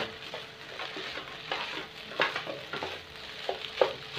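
Crab meat filling for stuffed mud crab is stirred in a hot pan, a utensil scraping and tapping in irregular strokes over a soft, continuous sizzle of frying.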